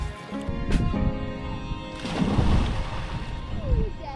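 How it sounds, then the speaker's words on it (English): Small first-time swimmers in life vests splash in water, with irregular bursts of sloshing and slapping, a bigger splash partway through and voices murmuring nearby. "Splashing? Splashing."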